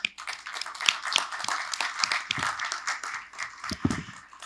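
Audience applause fills a meeting hall at the opening session of a G20 national public health institutes gathering, a dense wash of many hands clapping steadily and fairly close, with a few louder individual claps and low thumps near the end.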